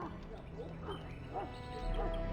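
In Dragon Age: Origins, a mongrel dog gives several short, moderate barks and yips in a game scene, with low background rumble and no clear talk over them.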